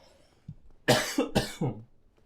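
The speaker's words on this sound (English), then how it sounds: "those coughs come complete with phlegm" A few close, harsh coughs in quick succession, wet and throaty with phlegm, following a faint bump, then quiet.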